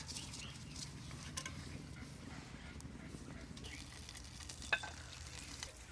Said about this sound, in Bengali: ঘিয়ের মধ্যে 2টো লঙ্কা দিয়ে দেবো, কাশ্মীরি লঙ্কা